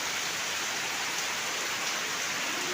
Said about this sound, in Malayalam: ഇപ്പം വീണ്ടും നല്ല മഴയാണ്